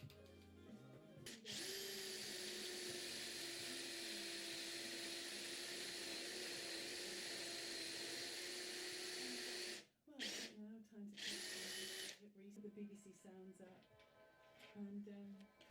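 A power drill with a hinge-boring bit runs flat out through a melamine panel for about eight seconds, a loud steady high whine, then stops and gives two short follow-up bursts amid handling noise.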